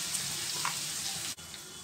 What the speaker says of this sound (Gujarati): આપણી ડુંગળી બરોબર શેકાય ત્યાં સુધી આપણે એને શેકવાની છે